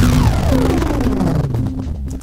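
Music tracks played back under a tutorial edit in Audacity: a dense, steady mix with sustained tones and a descending melodic line, loud throughout and fading slightly toward the end, with no talking.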